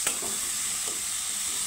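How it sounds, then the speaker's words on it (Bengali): Chopped onions fry lightly in a pan with a steady, soft sizzle throughout, broken by a couple of brief scraping stirs near the start and middle. "পেঁয়াজটাকে আমি একটু হালকা করে ভেজে নিচ্ছি"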